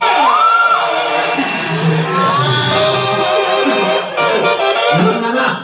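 A crowd of men at a clown show yells and cheers together, a loud sustained roar of shouting voices that swells and dips over several seconds close by.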